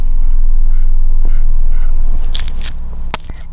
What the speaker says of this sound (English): You will notice that it's doing a little bit of a sound. This is telling you that it's charging